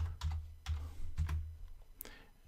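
Typing on a computer keyboard, a short burst of four or five distinct key presses close up in a quiet room, ending with a brighter final tap.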